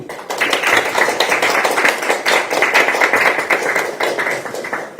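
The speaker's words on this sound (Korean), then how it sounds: "여기 계신 분들께 이동현 후보를 응원하는 박수를 부탁드립니다" At an outdoor political rally for a district mayor candidate, the crowd claps in a brisk, crisp burst of many hands, loud and steady for several seconds.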